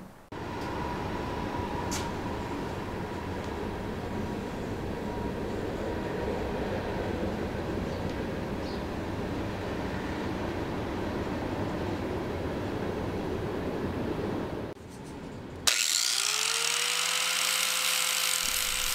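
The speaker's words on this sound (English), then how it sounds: "just carefully go around those areas with the flap disc, taking a little bit at a time" A flap disc grinds a metal antenna tube being fitted into a car fender, producing a continuous harsh grinding roar for about fifteen seconds before the tool's pitch abruptly changes to a steadier whine.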